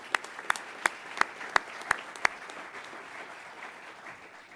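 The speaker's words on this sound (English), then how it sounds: "So please, a round of applause for our maintenance partners." An audience at an undergraduate pilot training graduation applauds its maintenance partners. About seven sharp, evenly spaced claps stand out near the microphone over softer crowd clapping, which then thins and fades.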